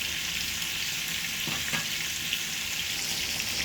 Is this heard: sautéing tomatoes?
yes